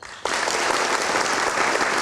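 After a brief quiet instant, a studio audience at an Indonesian election talk show breaks into loud, full applause that holds steady and dense to the end, with no voices.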